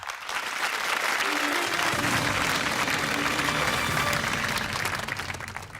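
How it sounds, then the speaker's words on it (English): A BBC quiz studio audience applauds a contestant reaching the final, a broad, steady burst of clapping that swells after a brief lead-in and holds without speech. "round of applause for Anne"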